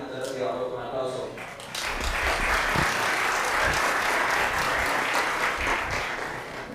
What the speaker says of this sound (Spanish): entonces llevarlo con un aplauso